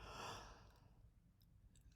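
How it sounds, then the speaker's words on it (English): A single drawn-out human yawn, breathy and loudest at the start, then tapering off over about two seconds, close to the microphone during late-night chess commentary. "sorry, yawn."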